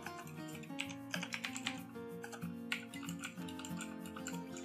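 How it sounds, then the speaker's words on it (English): Typing on a computer keyboard, entering a scan command during an ethical hacking walkthrough, heard as quick irregular key clicks under steady background music, with no talking. "I'm going to type in the command here"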